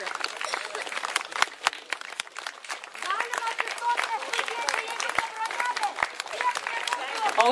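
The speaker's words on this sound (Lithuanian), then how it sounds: "Audringesni aplodismentai!" Audience applause at a small-town jubilee celebration marking the town's 460th anniversary, moderate steady clapping from a crowd with light murmuring throughout.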